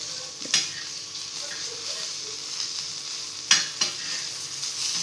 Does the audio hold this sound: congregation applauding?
no